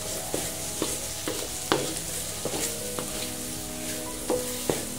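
Sauce with fish sauce sizzles steadily in a frying pan while a utensil stirs, scraping and tapping against it in irregular strokes, close up.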